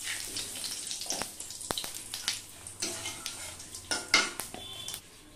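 Cumin seeds and whole garam masala sizzling in hot oil in a wok, a bright crackling hiss under repeated metal clatter and scraping of a spoon against the pan, close by with no voices.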